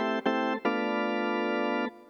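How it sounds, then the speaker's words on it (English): A dry organ voice on a Yamaha keyboard plays two short notes followed by one long held chord, with no effects added. The sound is clean and steady, with nothing else heard. "So this is a sound of an organ without a DSP effects."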